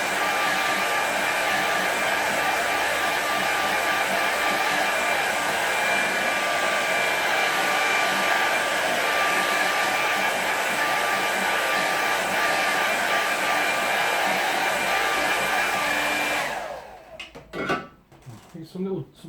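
Loud, continuous hair dryer blowing across a watercolour landscape painting to dry the paint, running steadily for around sixteen seconds before switching off, with brief quiet clatter afterward.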